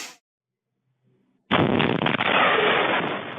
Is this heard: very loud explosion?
yes